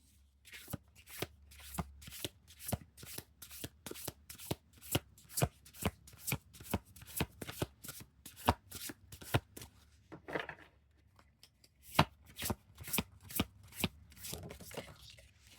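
Oracle deck cards are riffled and shuffled repeatedly, crisp rhythmic flapping bursts close to the listener, with a short pause before the shuffling resumes.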